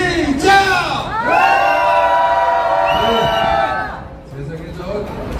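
A protest rally crowd outside the presidential residence in Hannam-dong, Seoul, lets out a loud sustained roar of shouting and whooping lasting a few seconds, then dips and fades into scattered voices.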